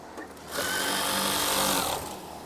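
An electric sewing machine runs steadily while stitching curtain fabric, a continuous whirring hum starting after a brief pause and holding for about a second and a half before easing off.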